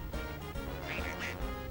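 Baby ducks quacking in the Toy Story 2 video game, a few short quacks layered over steady game music and effects, with a voice talking over them.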